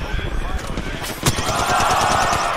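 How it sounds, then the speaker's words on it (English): Rapid automatic gunfire from an Apex Legends match crackles in dense bursts, with one sharper shot standing out midway, all running under steady team voice chat. "They're trying to break Jin. I'm shooting them."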